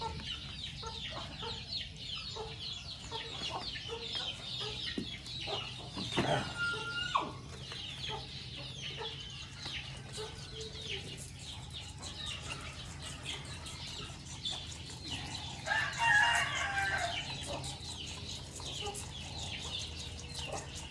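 Hens cluck steadily at a farmyard feeding, with a rooster crowing once partway through and wings flapping now and then, all fairly close and unaccompanied by talk.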